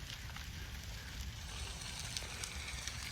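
Stacked piles of cleared cedar trees burning outdoors, giving a faint, steady crackle and hiss with scattered pops. It runs alone, with no talking.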